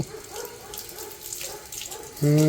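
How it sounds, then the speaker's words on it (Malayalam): Water runs steadily from a newly widened pipe at a farmhouse, a soft, even rush that ends with a sudden loud humming tone. "പൈപ്പ് വലുതായപ്പോൾ വെള്ളത്തിൻ്റെ ഇത് കൂടി"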